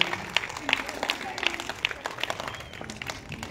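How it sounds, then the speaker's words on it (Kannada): An audience at an Independence Day fancy-dress event claps to welcome a student onto the stage, a patter of scattered hand claps at moderate distance with a voice talking over it. "ದಯವಿಟ್ಟು ಚಪ್ಪಾಳೆ ಮುಖಾಂತರ ಅವಳನ್ನು ಸ್ವಾಗತಿಸಬೇಕಾಗಿ ಕೇಳ್ಕೊಳ್ತಿದ್ದೇನೆ."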